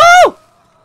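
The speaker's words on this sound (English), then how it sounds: "Oh no, we've got a lame horse." A short, loud whinny from a lame horse in Red Dead Redemption II, with a falling, bending pitch, cut off sharply after a fraction of a second, followed by a faint lingering tone.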